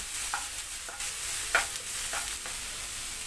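Salted snake gourd and lentils are stirred in a pan, giving soft scraping and light sizzling with a handful of spoon knocks, close up and without talk.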